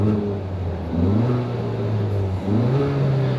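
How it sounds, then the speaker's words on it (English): A 2023 Kia Forte GT with a dual-clutch transmission, in sport mode, revs its engine while parked. Three rising, droning revs swell and fall back, heard clearly from inside the car. "We go ahead and rev the engine, see if we can hear this a little bit"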